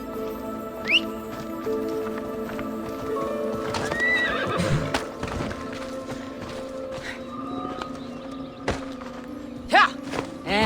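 A horse in Assassin's Creed Odyssey gallops with steady, close hoofbeats and gives a sharp whinny about a second in and again near the end, with a constant droning background under the hooves.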